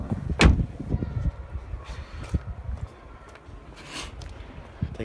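On a sound-insulated Citroen C-Elysee, a car door shuts with a solid, muffled thump near the start, followed by a few softer knocks and handling clatter, close by and without talk.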